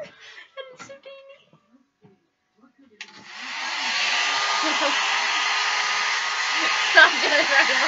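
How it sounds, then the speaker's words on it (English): A hair dryer switches on and blows with a steady, loud whoosh, after a few moments of quiet voices beforehand. "I have a blow dryer."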